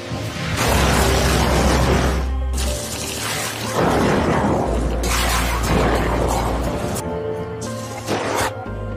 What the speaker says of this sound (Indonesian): mulai membidik dan meledakkan sebuah drum minyak milik pasukan Taliban